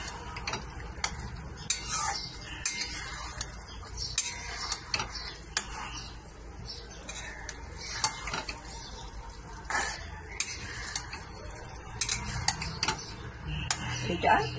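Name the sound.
stirring chilli paneer in a pan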